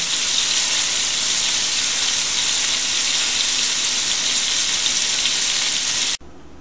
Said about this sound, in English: I have finished frying all of the pieces of beef